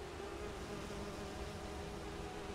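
Bees buzzing in the fantasy game Enderal, a steady, faint, continuous drone with no talking over it.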